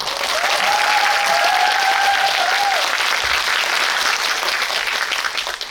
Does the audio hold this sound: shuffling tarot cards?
no